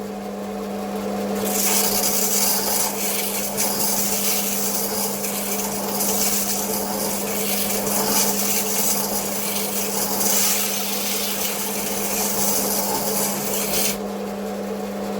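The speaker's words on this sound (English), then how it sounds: "that's grinding that away" An angle grinder or similar abrasive tool grinds a mark off a flood-damaged generator part, a steady, loud rasping whine that runs almost the whole time, with a constant low hum beneath it.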